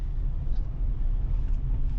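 A Ferrari with blown brake lines drives slowly around a parking lot, giving off a steady, low engine rumble heard from inside the car, with no voices.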